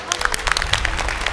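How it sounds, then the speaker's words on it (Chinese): A studio audience at a Chinese televised dating show breaks into a short burst of applause, brisk clapping that fills the moment from start to finish with a lively crowd feel. "掌声有请"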